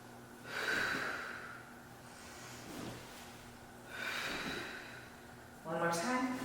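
A person breathes out forcefully during a Pilates mat exercise on the ball and heels-squeezing move. Several audible breath bursts and snort-like exhales come at intervals, fairly close, with a sharper, louder one at the end.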